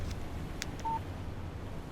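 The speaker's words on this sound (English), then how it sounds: "Text message from Barry." In Alan Wake, a phone's text message alert gives a single brief electronic beep, faint and short, over a low steady ambient hum with a few soft clicks.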